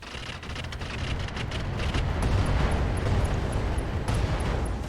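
Heavy weapons fire from BattleTech mechs in RogueTech, a dense, continuous roar of cannon and missile blasts rumbling for several seconds with sharp high clicks near the end, no voices.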